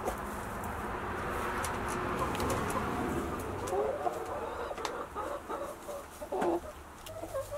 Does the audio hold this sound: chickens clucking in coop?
yes